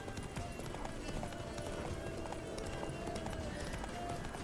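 Horse hooves galloping steadily in The Witcher 3, a continuous rhythmic clatter of running with no talk over it.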